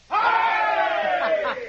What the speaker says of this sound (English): Give the masked gentleman a cheer